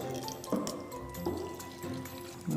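Melted candle wax being poured back into a container at a candle-making bar, a soft steady liquid trickle with small drips, close and quiet.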